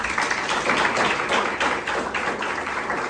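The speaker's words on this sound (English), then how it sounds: "So give yourself a round of applause." Seminar audience at a business masterclass giving a round of applause, a full, even wash of many hands clapping nearby, steady for the whole stretch with no speech.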